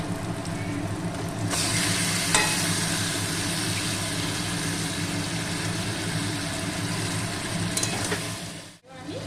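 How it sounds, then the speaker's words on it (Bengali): Marinated mutton being sautéed in a pan: an even, sustained sizzle that swells in after a brief quieter start, steady and close, with faint stirring scrapes and a short dip near the end. "এবার আমি ম্যারিনেট করা মাংসটা দিয়ে কষাতে থাকবো।"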